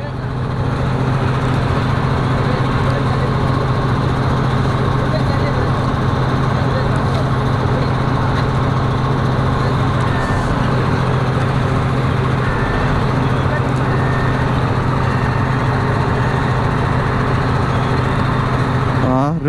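A paddy combine harvester's engine drones steadily and loud throughout as the machine drives and reverses, with a constant low rumble and mechanical clatter; people talk over it.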